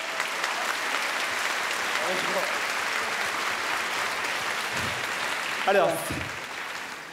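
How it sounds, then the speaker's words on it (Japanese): An audience at a Krush kickboxing event claps steadily and loudly for several seconds, a dense wash of hands that swells briefly near the end. A voice speaks over the clapping for a moment. "みんな拍手してあげてください"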